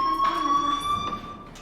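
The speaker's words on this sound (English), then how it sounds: "do you hear that fire alarm?" A school fire alarm in the game Life Is Strange rings with a steady high electronic tone, loud and continuous before fading near the end, with brief muffled noises over it.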